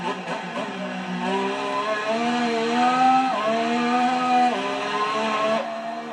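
Race car engine heard on board during the final lap of a Malaysia racing-league event, a steady high-pitched whine climbing and dipping through gear changes, loud and continuous with no voices.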